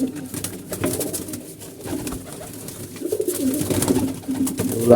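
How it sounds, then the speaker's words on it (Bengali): Pigeons coo close by after being released, repeating soft throaty rolls in an uneven rhythm, with some fluttering and shuffling in between. "এই একটা কবুতর আছে কবুতরটা ছেড়ে দিলাম"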